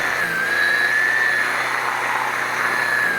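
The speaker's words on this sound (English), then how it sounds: "as you can see in this video, it's taking out weeds no problem" A Ryobi Expand-it 40V cordless weed eater cutting weeds gives a steady high-pitched motor whine with a dense, broadband buzz, close and continuous with no pauses.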